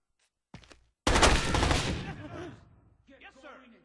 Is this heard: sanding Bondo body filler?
no